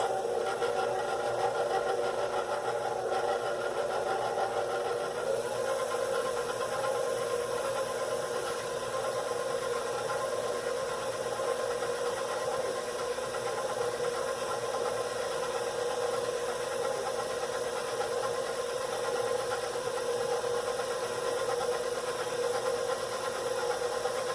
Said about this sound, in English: we're just going to mix this real gently until it combines